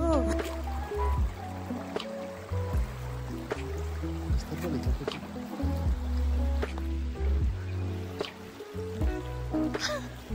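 A river flowing beneath a hanging-bridge trail at Chulilla, Spain, with a steady low rush of water, while people talk nearby and occasional knocks sound.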